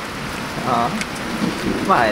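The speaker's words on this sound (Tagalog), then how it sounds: "biglang bumuhos ang malakas na ulan" Heavy rain pours down steadily in a dense, loud hiss, while a voice speaks briefly over the downpour.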